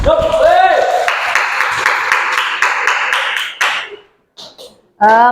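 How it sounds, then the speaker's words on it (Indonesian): A classroom of students applauds together during a school religious-education lesson, a dense, steady clatter of clapping that cuts off abruptly, with a voice talking before and after. "Tepuk tangan semuanya."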